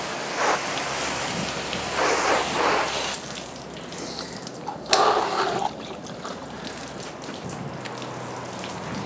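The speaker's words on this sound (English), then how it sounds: "get that fresh water in there and hose off the salt" Fresh water hosed over a boat hull to rinse off salt, a continuous hissing spray with louder surging bursts and a sharp splash midway, close by and without talk.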